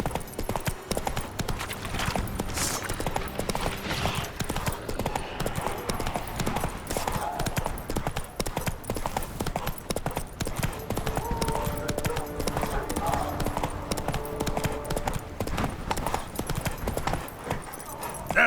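Roach the horse from The Witcher 3 gallops throughout, with steady rhythmic hoofbeats against game music and ambience, and a voice speaks briefly over it.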